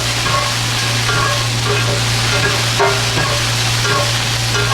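Leeks sauté in olive oil with a steady, close crackling sizzle throughout and a couple of soft utensil knocks partway through.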